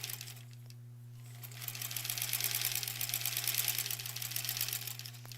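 A sewing machine stitches quilt border pieces together, with a steady, fast, close-up mechanical whir that rises in the middle and then runs on at moderate volume, over a constant low hum.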